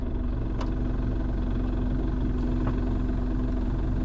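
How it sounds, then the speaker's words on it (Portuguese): A Chevrolet D20 pickup's S4T diesel engine runs at a steady close idle, a heavy low rumble with a constant hum and a couple of faint clicks, no talking. "Então eu faço questão de ligar ele aqui de novo, só para vocês sentirem a vibe da partida deste motor clássico."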